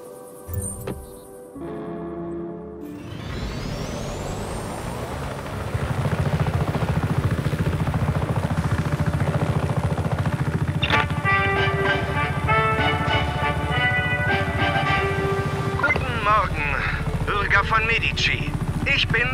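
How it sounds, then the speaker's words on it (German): A helicopter in the video game Just Cause 3 starts up and then holds a steady, loud rotor throb and engine drone, with game music and voices mixed over it. "Nimm den Helikopter"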